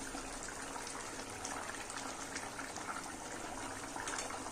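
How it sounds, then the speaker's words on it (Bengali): Katla fish curry gravy with coriander leaf paste bubbles steadily in a pan, a continuous close, dense simmering hiss with no breaks or talk. "মাছটাকে ভালো করে গ্রেভির সঙ্গে মিশিয়ে নিয়ে আরও 2 মিনিট ফুটিয়ে নেব।"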